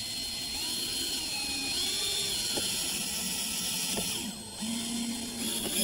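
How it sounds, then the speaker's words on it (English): A power screw gun drives screws into wooden decking outdoors, a steady high motor whine rising and falling over several short bursts, fairly quiet with background hum. "I'm going to take this piece of decking, just take and screw it down in place."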